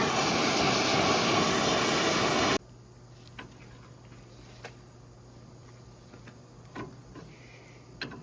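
Propane torch heating a tie rod end on a 2013 Ford F-150, a loud steady roaring hiss for a couple of seconds that cuts off abruptly, followed by quiet background with a few faint ticks and clicks.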